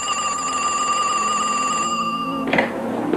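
An old 1980s telephone bell rings in one sustained, bright electronic trill for about two seconds before cutting off with a clunk as the handset is lifted.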